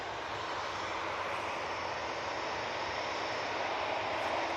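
A Ryanair Boeing 737-800 jet airliner departs Manchester Airport for Cologne, its engines producing a steady, loud, broadband roar that holds throughout with no voices.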